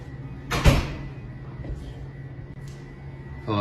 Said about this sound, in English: Did you hear the knock?